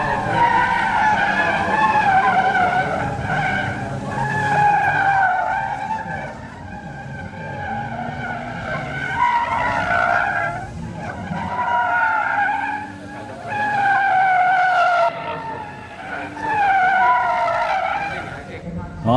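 Gymkhana race cars at the 2005 international gymkhana grand prix, one black and one red, rev hard and skid, with rising and falling engine whine and bursts of tire squeal that fade and return, loud and close.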